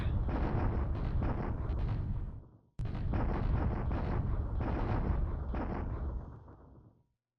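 Artillery bombardment in the War in the Pacific video game: a dense, continuous roar of overlapping explosions and rumbling blasts, loud and steady, broken by a brief gap and then tailing off near the end.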